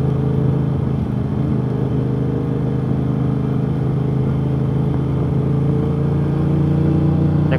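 Aprilia RS660 motorcycle fitted with an aftermarket exhaust cruising at low speed, its steady mid-low engine hum staying level and smooth for several seconds, near and uninterrupted, with a faint rise toward the end.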